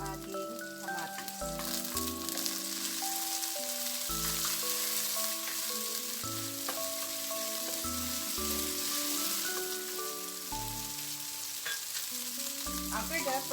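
Onion and tomato sizzle steadily in a hot pan, a continuous close frying crackle running the full length while soft background music plays.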